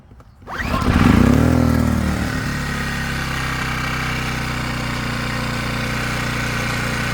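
A Harbor Freight Predator portable generator starting on a pull and settling into a steady running drone, rising quickly after a brief rev then holding a constant, close, loud hum with no talk.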